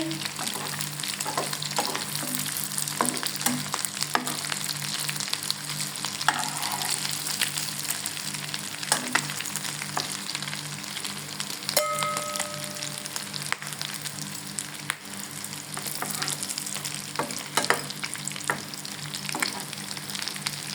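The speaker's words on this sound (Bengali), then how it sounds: "এইভাবে লাল করে ভাজা করে নিয়ে তৈরি হয়ে গেল আজকে আমাদের মাংসের পকোড়া" Meat pakoras deep frying in hot oil make a dense, continuous crackling sizzle close by, with scattered pops and faint clinks and a short electronic beep partway through.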